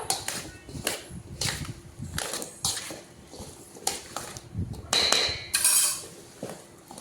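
Raw mango pickle pieces are tossed and mixed with oil in a metal vessel, producing irregular clattering knocks and scrapes, close and fairly crisp.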